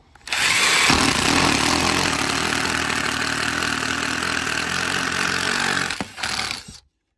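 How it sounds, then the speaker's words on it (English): A power drill with a 3/8 inch bit bores holes through wood for barn door shutters, a steady whining motor running continuously for about five seconds before stopping, close and loud. "So we're gonna come in with a 3/8 inch and just drill our holes all the way through."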